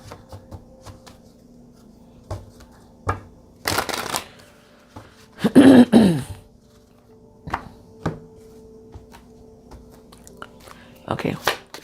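An emotional intelligence oracle deck is handled and shuffled up close, with scattered card taps and riffles building to a loud burst of rapid shuffling midway, then more intermittent handling and light thumps.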